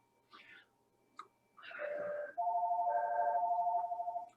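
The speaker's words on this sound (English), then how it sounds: "Well, the phone is ringing." A telephone rings with a sustained electronic warble after a few short chirps, quiet and clear against a silent room, with no one speaking.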